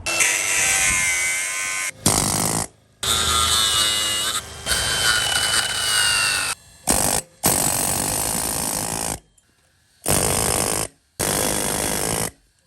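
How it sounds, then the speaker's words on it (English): A Milwaukee angle grinder cuts into a weld on a third-generation Toyota 4Runner during a solid axle swap, loud whining and grinding in bursts separated by short silences, near and harsh. "weakening the weld either with the Milwaukee angle grinder or the Milwaukee hacksaw"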